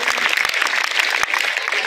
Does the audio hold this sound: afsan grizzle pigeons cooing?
no